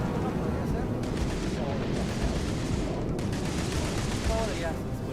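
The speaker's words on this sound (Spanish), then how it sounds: "escucho tanto balazo" Dense, continuous gunfire and shooting from the video game Starfield, a steady loud barrage of overlapping shots and blasts filling the whole stretch without pause.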